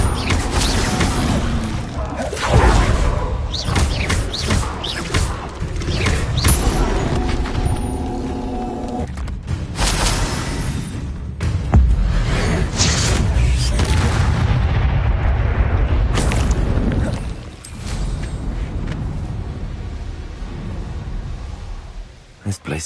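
Bombarda spell explosions in Hogwarts Legacy amid a spell-casting battle, repeated heavy booms and crashes of varying loudness over about twenty seconds, with game voices talking between blasts.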